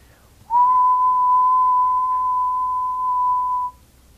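A person whistles a single steady, pure high note that holds for about three seconds, clear and alone over a faint room hum.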